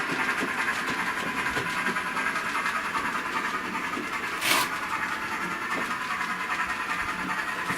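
A model train runs along its layout track with a steady, moderately loud rolling rumble and faint clickety-clack, continuous and even throughout, with no talking.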